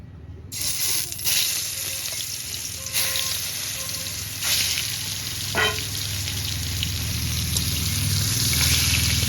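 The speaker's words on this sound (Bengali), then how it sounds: "এবার মাছগুলো তেলে ছেড়ে দেব" Bhola fish crackle and sizzle loudly in hot oil after being slipped into the pan, a sudden hiss that holds steady and close, with a few clatters of utensils. No talking.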